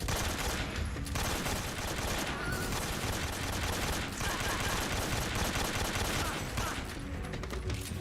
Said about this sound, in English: Oh, this dude has a shotgun.